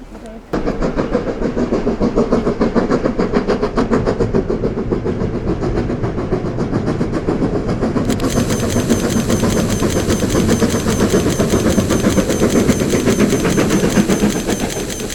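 A train rumbles steadily past over a bridge for the whole stretch, a dense rhythmic clatter of wheels over rails, loud and close, with a hiss joining partway through.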